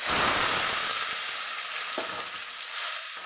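Garlic frying in oil in a pan for poondu rice, a steady close sizzle that is loudest at the start and then eases, with a couple of faint stirring clicks and no voices.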